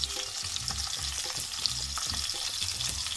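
Chopped onion frying in soybean oil in a pan, a loud close crackling sizzle with rhythmic stirring scrapes throughout, no voices.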